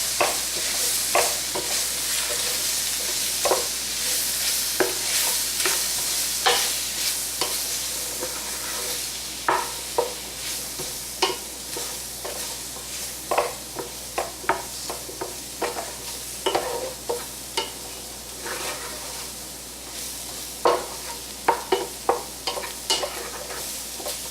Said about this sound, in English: we're going to stir this around because we're basically making a roux with the oil in here from cooking